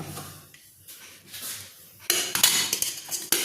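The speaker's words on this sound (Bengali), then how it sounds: "এবার এই কড়াইটার মধ্যে আমি প্রথমে রাইসটাকে দিয়ে দেবো।" Rice is tipped into a kadai for egg and prawn biryani, with soft scraping and clinks of a spoon against the metal pan, then louder rattling clatter in bursts toward the end.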